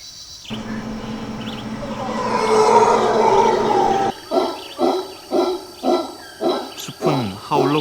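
A troop of howler monkeys calls from the forest with a long, swelling roar, then a run of rhythmic, barking grunts repeated about twice a second, loud and fairly close.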